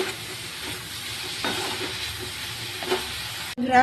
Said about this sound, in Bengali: এতে খুব বেশি ঝাল দেওয়া দেবো না ওই জন্য একটুখানি শুকনো লঙ্কা ফোড়নে দিলাম